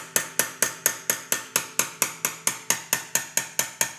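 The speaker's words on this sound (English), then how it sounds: "you have to chisel this little raised section off right here" Hammer striking a chisel against an overtightened lug nut on an aluminum wheel, about seventeen sharp metallic blows in a steady quick rhythm, close and loud.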